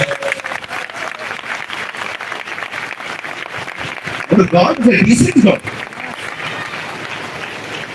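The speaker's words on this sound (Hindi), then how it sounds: "आइए हम यीशु के लिए अच्छी ताली बजाएंगे।" A Hindi-speaking church congregation claps for Jesus, with brisk, crowded applause running throughout. A voice rises briefly over the clapping midway.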